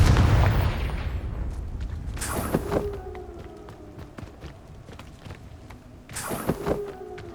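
A Confringo spell going off in Hogwarts Legacy, a loud boom at the start that fades into rumbling, followed by a couple of sharp, crackling magical blasts amid lighter game effects.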